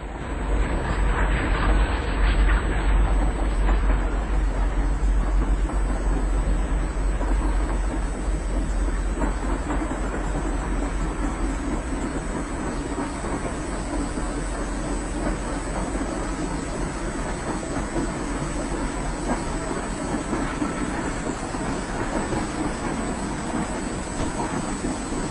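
An oil train passes on the Santa Barbara coast line, a loud, continuous rumble of rolling wagons with rhythmic wheel clatter that stays close and heavy throughout, with no voices.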